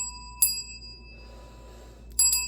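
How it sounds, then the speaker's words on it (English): A small bell rings clearly twice during a quiet tarot reading, with one bright strike and then a second, longer ringing after a hushed pause. "Ring the bell."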